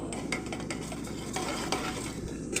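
Bottle gourd kootu stirred in a pan, a continuous low scraping churn with soft sizzling underneath and faint utensil taps, steady throughout with no talking.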